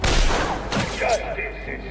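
Gunfire in the Batman Arkham City video game: a loud, rumbling burst of shots and booms at the start that fades into softer game noise, with someone talking over it.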